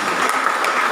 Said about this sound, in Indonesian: Tepuk tangan yang paling berbahagia.